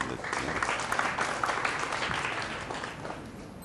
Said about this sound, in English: There's the applause because they know he's going to stay on the table.